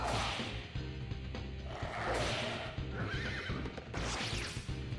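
A unicorn demon neighs in the video game Shin Megami Tensei Nocturne, a loud whinny over clip-clopping hooves and whooshing battle effects, ending on a sharp hit.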